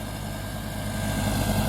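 Landini tractor engine idling steadily with a low, even rumble, close by and gradually getting slightly louder, with no voices over it.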